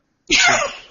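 A single sharp sneeze, loud and close, bursting out after a moment of silence and tailing off within a second.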